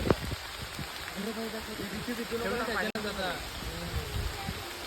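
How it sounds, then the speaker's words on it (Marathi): Heavy rain pours down in a dense, steady hiss close by while a person talks over it. "पाऊस खूप आलाय"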